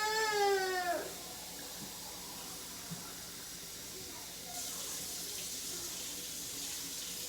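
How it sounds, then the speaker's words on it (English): Tap water runs into a cooking pot in a home kitchen, a soft, faint, steady hiss that follows a brief squeaky tone at the start and grows slightly brighter midway. "I'm gonna fill 64 ounces of water now."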